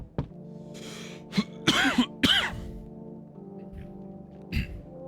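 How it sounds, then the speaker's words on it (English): A few short, harsh coughs with a throat-clearing rasp from a video game character, fairly close, over a steady low hum and quiet background tones. "Heard somebody cough."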